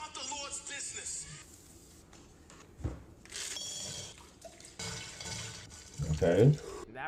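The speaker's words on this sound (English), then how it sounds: "he could use, bottled water and an exquisite type of sparkling water brand to wash his face with" Bottled sparkling water splashes and drips as it is used to wash a face over a sink, a soft, uneven trickle with faint splashes mixed in with voices talking.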